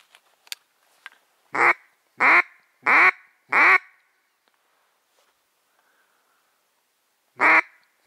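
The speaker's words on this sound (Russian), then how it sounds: "А мы ждем утку, криковых на парочку хотя бы." A mallard duck quacks in a descending series of five loud, evenly spaced calls, then gives one more after a pause, with faint clicks and rustles early on. It sounds close in an outdoor marsh setting during duck hunting, with no talking.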